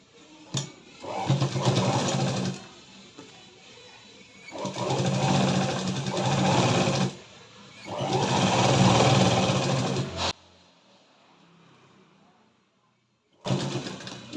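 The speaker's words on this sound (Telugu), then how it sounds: "ఇప్పుడు దీన్ని స్టిచ్చింగ్ చేస్తున్నాం" A sewing machine stitches a blouse in three long, steady whirring bursts with short silent gaps between them, loud and close.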